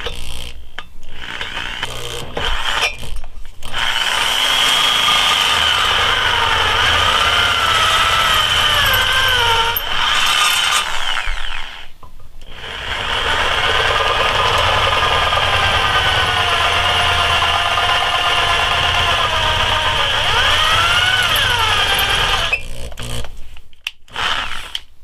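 Power drill boring into a supercharged M90 lower intake manifold during prep for a Gen 5 swap, a loud whining bit running in two long sustained passes with brief pauses between.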